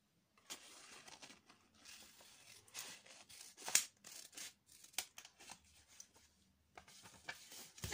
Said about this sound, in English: So I'm going to turn the paper this way round and cut this way.